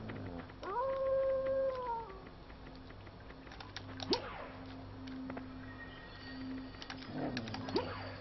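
A wolf howls in the video game Tenchu: Stealth Assassins, a rising then sustained tonal howl near the start, followed by quieter sweeping cries and clicks over a low steady game hum.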